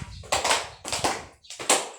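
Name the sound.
three claps for a student in class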